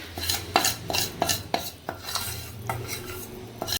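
A spoon stirs hot melted jaggery into a churma ladoo mix of wheat flour, gram flour, semolina, desi ghee and coconut, with sharp metallic scrapes and clinks repeating in a quick, regular rhythm, close and clear, with no talking.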